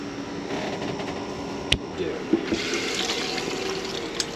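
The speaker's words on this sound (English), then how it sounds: "Let's turn the water pump on." Aboard a sailboat, the freshwater pump runs and water flows steadily from a tap, a continuous rushing hiss with a few small clicks and knocks.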